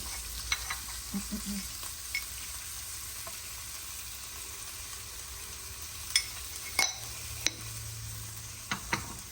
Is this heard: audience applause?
no